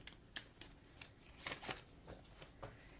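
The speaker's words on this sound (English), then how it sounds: "after I finish this last shuffle" Tarot deck being shuffled by hand at close range, a quiet run of soft papery riffles and slaps with a louder burst near the middle, no voices.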